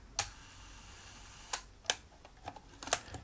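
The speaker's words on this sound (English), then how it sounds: "If I put it to 1 second here," A Hanimax Holiday 35mm camera fires its shutter at a slow 1-second speed, giving sharp close mechanical clicks spaced apart, followed by a few lighter ticks and clicks from handling.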